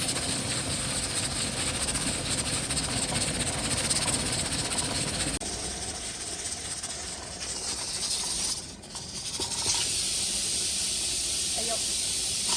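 Steady steam hiss from a covered pot of bones braised with ginger, cooking wine and a little salt, a broad continuous rushing sound that holds throughout with a brief dip near the end, with some talk faintly beneath.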